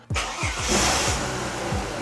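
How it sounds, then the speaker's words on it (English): A Ford Falcon car engine cranks and catches after an alternator replacement, a close, steady mid-pitched engine running on through the short stretch with no talk. "we're gonna turn the car on, then check the voltage and hope that it's all good"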